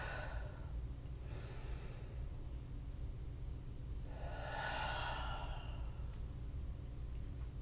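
Breath sounds from a yoga session, soft airy exhales and inhales rising and falling twice over a steady low background hiss, with no one speaking.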